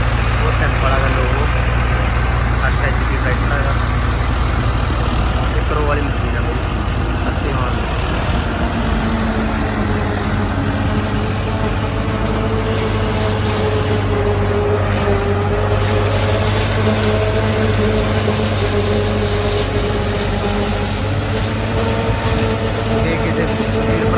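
A heavy four-wheel-drive tractor engine rumbles and idles loudly and steadily throughout, a deep constant drone with shifting tones as it runs nearby in a flooded maize field.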